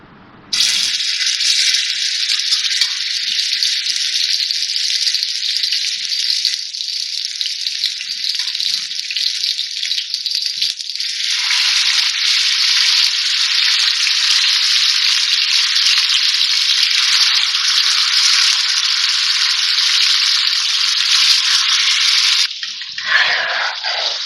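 Chicken pieces fry in about a quarter cup of oil in a wide tawa-style wok, giving a loud, continuous hiss and sizzle that holds for over twenty seconds before briefly faltering near the end.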